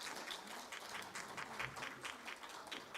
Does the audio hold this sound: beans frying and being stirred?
no